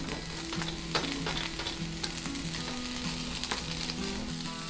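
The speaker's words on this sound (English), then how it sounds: "please add the onion to the pan" Onion sizzles and crackles steadily in hot oil in a frying pan, a close, continuous frying hiss with small pops and a low hum beneath.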